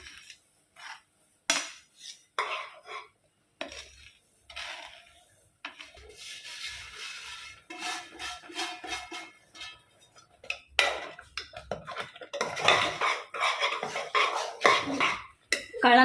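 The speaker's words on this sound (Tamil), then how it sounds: "இப்போது இந்த ரவையை அப்படியே சேர்த்துக்கலாம் கொஞ்சம் கொஞ்சமாக சேர்த்து அப்படியே கலந்து விட்டுக்குங்க" A spoon scrapes and clinks against a pan while semolina is stirred into a mixture, giving intermittent rubbing and metallic scraping strokes that grow busier and louder toward the end.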